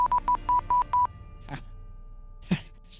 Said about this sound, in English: Is that another phone number you entered there?